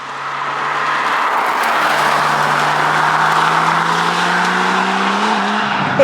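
A turbocharged Porsche 911 GT2, a lightweight rear-wheel-drive model, accelerates hard with a loud, rising engine drone and tire noise building over several seconds, close and steady without speech.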